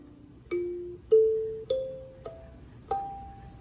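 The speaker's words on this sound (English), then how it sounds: "a kalimba." Kalimba mounted on an acoustic sound wall, played as five separate plucked tines stepping upward in pitch, each ringing out and decaying clearly in a quiet setting.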